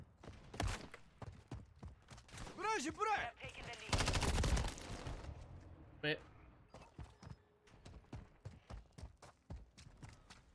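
Rapid bursts of gunfire in Call of Duty: Modern Warfare 3 multiplayer, sharp repeated shots scattered across the clip with a dense loud stretch in the middle, mixed with game sounds and radio-style voice lines.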